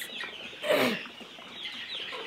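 Kienyeji indigenous chickens on a poultry farm cluck nearby, with one louder squawking call rising briefly amid softer overlapping clucks.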